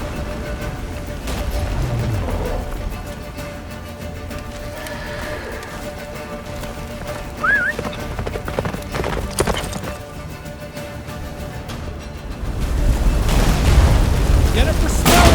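Geralt's horse Roach gallops hard in The Witcher 3, a rhythmic drumming of hooves under game music, rumbling effects and shouted dialogue, growing louder toward the end.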